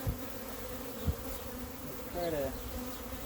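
Honey bees buzzing around an opened, crowded hive during a beekeeping inspection, a soft continuous drone with a few closer passes, a person speaking briefly over it.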